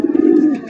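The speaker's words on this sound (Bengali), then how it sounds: "চমৎকার একজন রেসার কবুতর সবজির মধ্যে দেখতেই পাচ্ছেন" A large racing pigeon gives a single short, close, low cooing call, loud and clear with nothing else around it.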